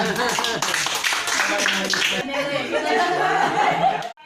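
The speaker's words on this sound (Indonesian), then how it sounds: "tepuk tangan" Hands clap in a lively burst alongside chuckles and chatter from several people, fading out at the end.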